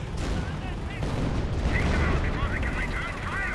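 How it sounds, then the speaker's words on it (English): Battlefield cannon fire and booms rumble steadily through a Company of Heroes match, a dense layer of low blasts with a few whistling and whining shells over the top, while a commentator talks throughout. "Second artillery there."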